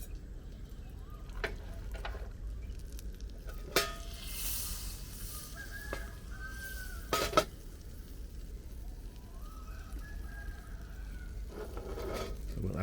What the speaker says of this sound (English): So we'll add a little bit of butter.